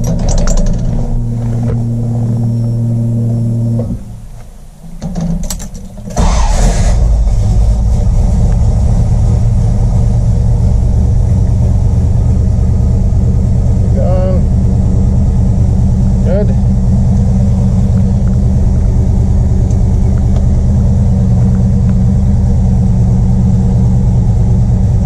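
A car engine fitted with FiTech fuel injection runs at operating temperature, running rich: a loud steady idle rumble that dips briefly and then settles back into a constant drone, with no talk.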